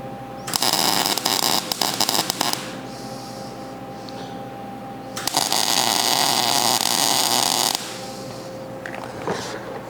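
Welder tacking parts onto a fab table, two loud sustained buzzing crackles of a few seconds each, close by, separated by a quieter hum.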